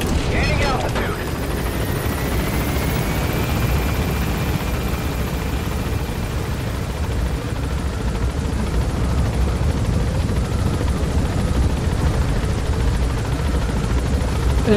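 A helicopter in the video game Metal Gear Solid V climbs into the air, its rotor and engine a loud, steady, unbroken drone that fills the whole stretch.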